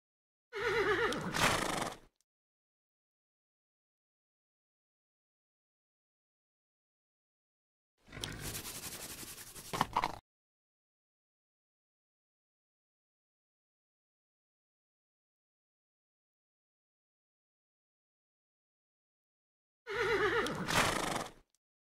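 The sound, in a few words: horse neighing in video game Detective Hayseed - Hollywood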